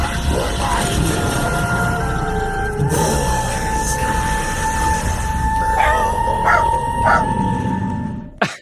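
A dog barks and yips amid a loud, steady hiss and sustained tonal hum, the barks short and scattered and partly buried under the constant background, with no talking.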